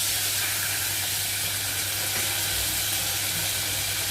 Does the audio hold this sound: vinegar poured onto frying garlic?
yes